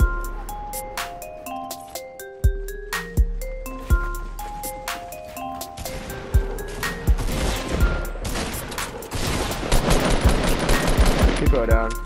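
Gunfire in the Fortnite Battle Royale video game: sharp single shots at first, building into dense rapid automatic bursts and heavy fire toward the end, loud and close.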